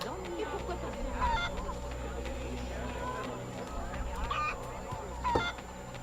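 A chicken in the video game Assassin's Creed Liberation HD gives short clucking bursts at intervals over a steady ambient bed, with a voice murmuring underneath.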